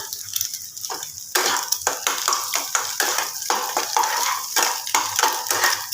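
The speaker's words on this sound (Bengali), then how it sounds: "একটু ভালো করে ডিমটাকে আমি ফ্রাই করে দেবো" Egg frying in a pan for a potato-and-egg puli pitha, a steady sizzle broken by repeated scraping and stirring clinks of a utensil against the pan, close and fairly loud.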